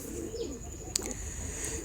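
Rampuri pigeons coo softly in a low, steady murmur, with a brief sharp click partway through and no voices.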